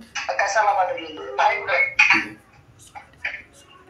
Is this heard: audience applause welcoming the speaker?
no